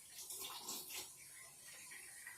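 Hot water runs from a tankless water heater at an outdoor shower and sink setup, a faint, steady rushing hiss that swells briefly before settling.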